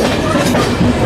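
Indian express train running on rails between Kanpur and New Delhi, a steady close rumble with rhythmic clickety-clack of wheels over rail joints throughout.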